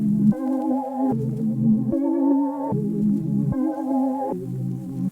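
A dark orchestral trap melody pitched down and treated with RC20 noise, wobble and distortion, playing alone as sustained chord-like tones that change in blocks about every second.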